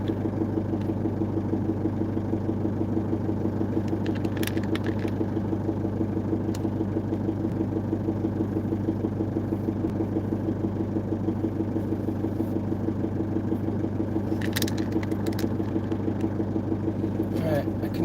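Car engine idling inside an enclosed space, a steady low rumble with a constant hum that runs throughout, with a few faint clicks and knocks over it.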